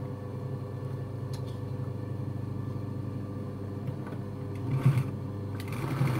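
A sewing machine runs steadily while stitching fabric during a sewing lesson, making a close, continuous low mechanical hum and rattle with a few small knocks and bumps near the end.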